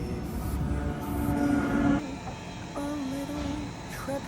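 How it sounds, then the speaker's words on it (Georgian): A train pulling into a station in the Alps, with a rumbling rolling drone, a sustained squealing brake tone and a brief hiss as it comes to a stop nearby. "ჩამოდგა ჩვენი მატარებელი."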